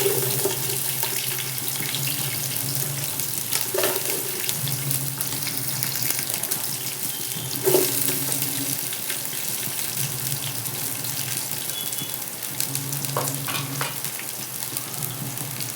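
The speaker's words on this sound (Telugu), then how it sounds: "ఆనియన్స్ మంచి బ్రౌన్ కలర్ వచ్చేంత వరకు ఫ్రై చేసుకుందాం." Sliced onions sizzle steadily in a hot pan for biryani, a constant crackling hiss broken by a few clinks and scrapes of stirring, with no talking.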